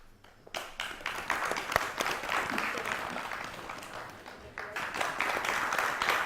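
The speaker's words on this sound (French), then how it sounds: "On l'applaudit, s'il vous plaît." Audience applause at a community gathering, steady dense clapping that swells after a brief quieter start and continues throughout, moderately distant and unbroken by talk.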